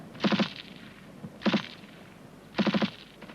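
Rifle group covering fire during section fire and manoeuvre, three short bursts of rapid shots spaced about a second apart, at moderate distance.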